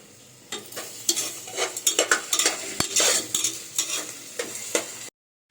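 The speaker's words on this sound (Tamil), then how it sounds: "அப்போ தான் வெங்காயம் பார்த்திங்கன்னா பொன்னிறமாக வதங்கும்" Onions sautéing with salt for mutton kulambu: close, busy sizzling with frequent clacking stirs of a utensil against the pan, rising and falling in bursts before cutting off abruptly near the end; no voices.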